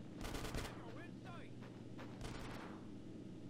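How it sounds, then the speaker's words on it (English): Rapid bursts of gunfire in Grand Theft Auto San Andreas, a fast crackling volley at the start and scattered shots after, amid a busy game mix with voices calling out. "Get some suppressing fire in there!"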